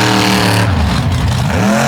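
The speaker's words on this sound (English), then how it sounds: "As two of the loudest vehicles on the tour roll to the starting line" Two loud race cars at a 2023 All Stars event at Naples roll toward the starting line, their engines a heavy, close, continuous low rumble that fills the whole moment with no talk.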